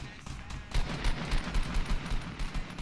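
Bursts of Fortnite Battle Royale gunfire crack out in quick succession over a noisy, rumbling background, several shots landing close together.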